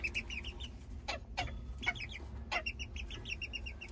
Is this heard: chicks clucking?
yes